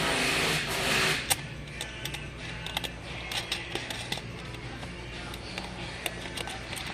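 A wrench tightens a fitting with a string of small close clicks and ratcheting ticks at an uneven pace, quiet over a steady background hum.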